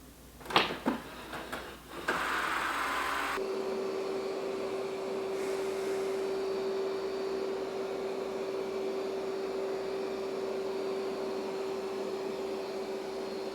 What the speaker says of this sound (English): Let's do vacuum only, 2 passes, high suction power, and deep cleaning.